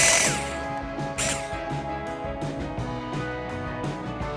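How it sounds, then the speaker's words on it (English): Handheld power drill driving screws to fix tags onto a homemade clock, heard in close, loud whirring bursts that start and stop several times with short pauses between. "I only have one hand to do the drilling"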